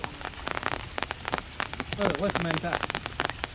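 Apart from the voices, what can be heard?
heavy rain falling at a river mouth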